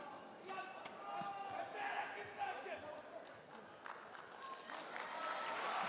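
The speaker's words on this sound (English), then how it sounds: "It's up to the applause of the crowd." Crowd applause and cheering fill an arena during a professional basketball game, a steady mid-level wash of clapping with a commentator talking over it.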